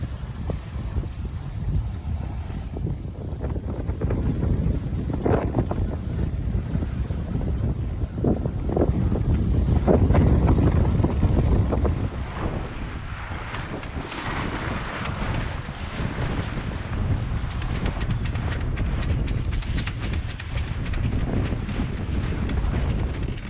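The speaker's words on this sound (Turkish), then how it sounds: "Bu rüzgarı kaybetmeden Marmaris'e kadar motorsuz bir şekilde gitmeye çalışıyoruz." Steady wind rushing past a sailing yacht under sail off the Turkish coast near Marmaris, with water swishing against the hull throughout, no engine and no talking.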